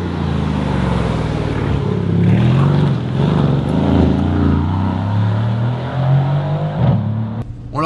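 A Mercedes C63S AMG with its biturbo engine accelerating hard, the engine note rising loud and close, climbing through revs with a brief gear-change dip near the end.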